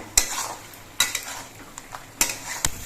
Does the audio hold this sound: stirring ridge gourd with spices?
yes